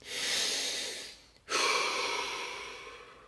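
A slow, deep breath taken during a guided relaxation exercise: a long airy inhale, a brief pause, then a long breathy exhale, close and soft with no talk.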